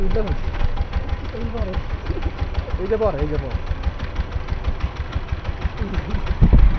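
A motorbike engine struggling to start, a rough uneven mid-pitched running sound with irregular knocking, close by, while people talk over it throughout.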